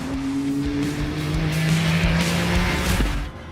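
Ferrari 296 Challenge race car lapping a wet, bumpy Sebring circuit: a loud, continuous engine drone with shifting pitch and a rising whine, spray and road noise swelling before easing off at the end.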